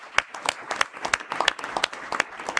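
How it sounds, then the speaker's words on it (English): Audience applauding at a university board of trustees meeting for Keysight representatives, a brief burst of scattered, individually distinct claps from a modest crowd in a room, moderately loud and steady for a few seconds. "Let's give them a round of applause."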